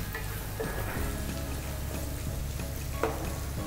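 Onions frying in a pan as the base of a prawn curry, giving a steady, close sizzle with occasional stirring scrapes and clinks, and no talk.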